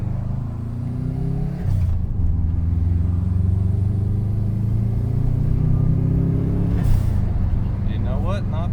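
A 2002 Subaru WRX wagon engine with a sputtering fault pulls under acceleration, a steady loud low rumble with rising engine tones, a brief dip and surge partway through, under faint talk.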